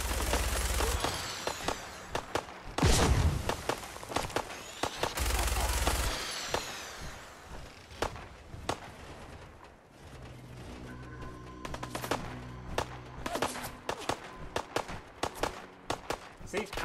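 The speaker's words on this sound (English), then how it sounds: "See, I'm getting shot at," Enemy raiders in a video game firing at the player, with bursts of sharp gunfire shots and rattling mechanical clatter, loud and near at first, then scattered intermittent shots under game sounds.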